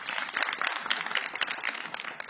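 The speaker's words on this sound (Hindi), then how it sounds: "आप सब मुझे एक बार आदेशित कर दें अपनी तालियों से।" Scattered applause from an audience at a Hindi poetry recitation, light uneven clapping of moderate loudness, heard at some distance.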